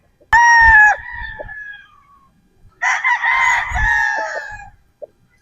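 A pyle Sweater Boston gamefowl rooster crows twice, close and loud, each crow a strong drawn-out call followed by a short pause.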